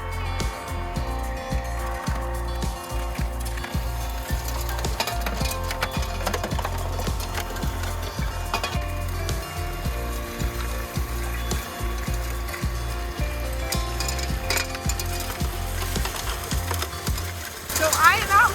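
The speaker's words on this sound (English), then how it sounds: "I got my Gold Fox trommel and it's time to say goodbye to these tailings" A Gold Fox trommel running gold tailings outdoors, a continuous rattling, grinding churn of gravel tumbling in the drum with a steady low motor drone, loud and close for the whole stretch, ending in a louder clatter.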